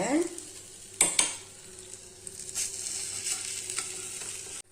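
A chutney omelette sizzles in a pan and gets flipped, with a soft continuous frying hiss broken by a sharp clatter of utensil on pan near the start, followed by lighter scraping taps, without any talking.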